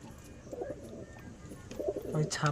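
Pigeons coo in a net loft, soft throaty repeated calls building to louder close-up coos near the end.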